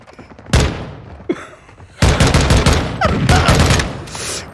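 Gunfire in the Modern Warfare 2 beta, a sharp single shot followed later by a loud, sustained rapid burst of shots with booming impacts, close and intense, with no talking over it.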